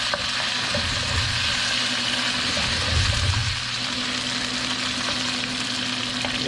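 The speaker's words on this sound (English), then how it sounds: "Ooh, nice sizzle." Beef stir-fry seasoned with kosher salt and black pepper sizzles in a pan, a loud, steady crackling hiss with a swell of louder frying partway through, no voices.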